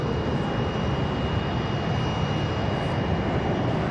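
A Boeing 777X jet airliner roars steadily with engine noise, a loud continuous wash without pause, close by at Boeing Field.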